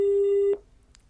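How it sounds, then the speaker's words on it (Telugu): A loud steady telephone tone after a call drops cuts off abruptly midway, leaving faint background noise and no speech. "అరే ఫోన్ కట్ అయినట్టున్నదే"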